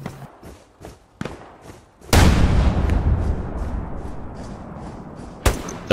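Gunfire in the World War II shooter Hell Let Loose at Sainte Marie Du Mont: a few sharp cracks, then one loud close shot with a long rumbling decay, and a final crack near the end.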